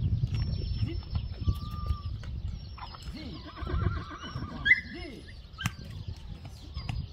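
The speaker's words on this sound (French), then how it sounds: "Premier tour à cheval pour Ninon." A horse at an animal refuge in Morocco whinnies with a quavering, rising call while a child takes a first ride, with snorts and soft hoof and farmyard sounds around it and no talk.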